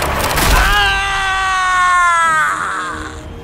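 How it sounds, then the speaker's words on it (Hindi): A deep scream in a horror audio drama, a long harmonic cry that slowly fades and trails off, heard loud and alone with no talking. "एतना के गले से एक गहरी चीख निकली और धीरे धीरे मध्यम पड़ गई"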